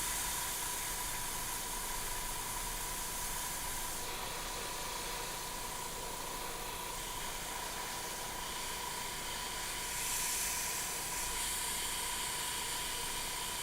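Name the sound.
airbrush spraying paint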